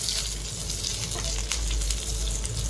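Two green chillies fry in a hot pan, a steady close crackling sizzle that goes on throughout, with a faint low rumble underneath.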